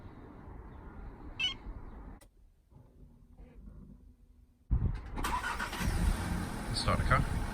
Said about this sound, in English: So if we just press the remote start button now,